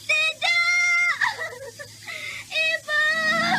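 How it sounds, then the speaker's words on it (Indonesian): Villagers scream and wail in grief, with several long, high, loud cries broken by short sobbing gasps, close and emotional, from a dramatized village stricken by a deadly sorcerous plague. "Itu suara teriakan tangisan warga desa kami."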